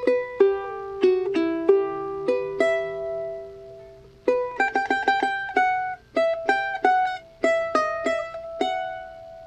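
A charango plays a phrase of a Bolivian taquirari: bright plucked notes in short clusters and strummed bursts, with a pause midway before a busier run of quick repeated notes, close and alone.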